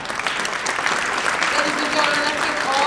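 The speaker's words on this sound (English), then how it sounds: "let's give all of our candidates a round of applause, please" An audience at a Longmont Area Chamber of Commerce candidate debate breaks into sustained applause, steady dense clapping filling the room throughout.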